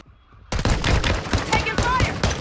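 Rapid gunfire in the video game Call of Duty Modern Warfare II erupts suddenly after a quiet moment, a dense loud burst of overlapping shots with voices barely audible beneath.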